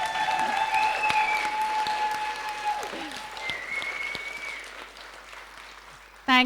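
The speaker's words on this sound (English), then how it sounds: "So please give Ash a round of applause" An audience gives a speaker a round of applause at a political talk on women's representation, the clapping steady and fairly loud before thinning out toward the end, with a brief louder burst right at the close.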